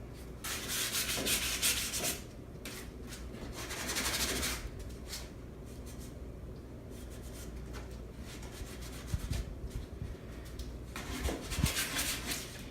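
Wax is rubbed by hand onto chalk-painted furniture with a continuous, close, scratchy rubbing and brushing sound. Strokes swell and ease steadily, and no one speaks.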